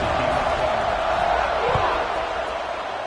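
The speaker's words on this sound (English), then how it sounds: "this crowd is buzzing after that last score" Stadium crowd noise in an American football video game, right after a touchdown and before the kickoff: a loud, continuous, dense roar of many voices with no individual words standing out.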